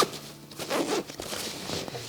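The main zipper on an Osprey Ariel 55 women's internal-frame backpack is pulled open in a couple of quick, close, raspy strokes, with light rustling of pack fabric.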